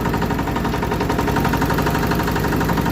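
A ZUBR 160 mini tractor engine runs steadily and close by, its dense mechanical chugging and rattle continuous throughout.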